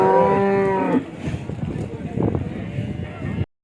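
A cow moos loudly and close for about a second at a busy cattle market, followed by murmuring voices and livestock bustle in the background.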